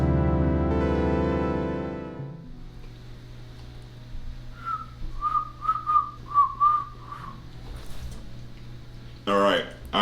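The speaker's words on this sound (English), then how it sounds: "I can whistle" After a sustained tone fades, a person whistles a short series of clear, breathy notes, with a brief vocal sound at the end.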